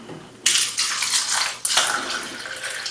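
Kangen water poured from a height onto a tea bag, a steady splashing stream that starts abruptly, breaks off briefly, then resumes close and fairly loud, with no talking.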